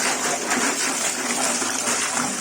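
Fast water gushing in a washroom, a steady loud rushing hiss with no breaks, close by and filling the whole stretch with no voices.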